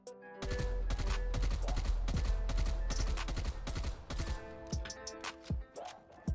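A KSP submachine gun with maxed-out attachments fires rapid, sharp bursts in a video game, several quick clusters of shots close together, loud and dry, thinning toward the end.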